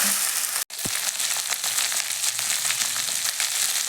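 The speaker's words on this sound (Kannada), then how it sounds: "ಎಣ್ಣೆ ಕಾಯಿಸ್ಬೋದು." Cooking oil heating in a pan gives a steady, close frying sizzle that crackles throughout, broken by a brief silent gap early on.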